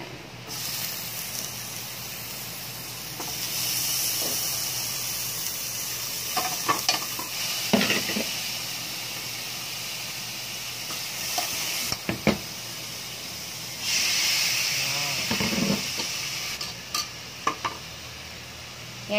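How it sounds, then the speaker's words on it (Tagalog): Garlic and onion sauté in a pan for sinigang na baboy, giving a continuous sizzling hiss that surges and settles as the mixture is stirred, with occasional sharp clinks of a utensil against the pan. "Brown-brown na po yung ating bawang. Lagay naman natin yung sibuyas."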